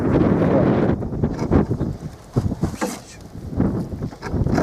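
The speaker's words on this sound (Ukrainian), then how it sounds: "Вітер, вітер що лодку не можна втримати" Strong wind on a river buffets the microphone in loud, gusty surges, with roaring low rumbles rising and falling throughout.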